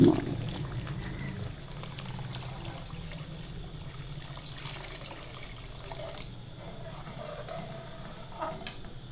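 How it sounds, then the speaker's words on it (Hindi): Water pours steadily into a pot of kadhi made with yogurt, in a continuous splashing stream, strongest at the start and then settling into an even flow. "अब इसमें हम पानी शामिल करेंगे।"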